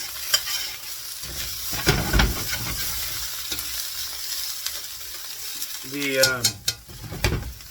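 Potatoes frying on a griddle with mushrooms and ham, a steady close sizzle broken by scraping, clattering spatula strokes as the food is stirred and turned, no talk.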